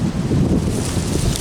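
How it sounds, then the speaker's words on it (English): Strong spring wind blows across a deep-mulch vegetable garden, a loud continuous buffeting rush against the microphone that lasts the whole brief moment with no talk. "This wind is something else today."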